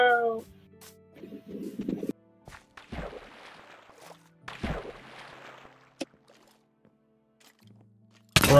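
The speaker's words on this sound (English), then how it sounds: "My cat's just meowed on beat to the song I'm listening to." A cat meows a few times in short, separate calls, fairly close, with quiet gaps between them and a brief sharp knock near the end.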